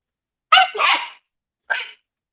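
A puppy gives two close, loud barks. The first is a drawn-out double yap, and a short single bark follows about a second later, with silence around them.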